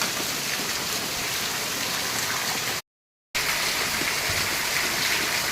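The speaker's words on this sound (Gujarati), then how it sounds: "વરસાદ પડે જોરદાર" Heavy rain pours down steadily in a wet rural village during the monsoon, a dense, continuous hiss of drops on surfaces and running water, close and loud, broken by a brief moment of total silence midway.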